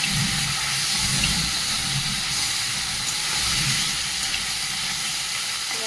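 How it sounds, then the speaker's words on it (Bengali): Fish coated in salt and turmeric sizzles loudly in hot oil, a steady, close crackling hiss with a few low bubbling pops, no voices over it. "লবণ আর হলুদ মিশিয়ে রাখা মাছগুলো দিয়ে দেব তেলের মধ্যে"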